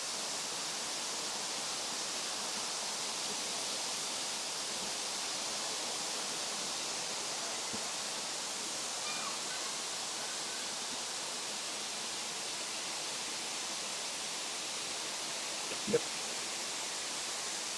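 Steady broadband rush of Erawan Waterfall in the national park at Kanchanaburi, Thailand, a continuous even roar filling the scene from start to finish, with no voices over it.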